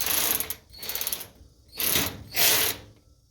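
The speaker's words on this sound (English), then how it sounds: "I just turned the head on the ratchet to turn it the other direction." Ratchet wrench clicking while tightening a bolt during a Samsung washing machine spider gear replacement: four close bursts of rapid ratcheting clicks separated by short pauses.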